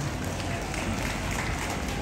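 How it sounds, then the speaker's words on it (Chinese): Audience at a community singing-contest event applauding, a dense continuous wash of clapping from a crowd, steady and fairly loud throughout. "来个同情的掌声给他。"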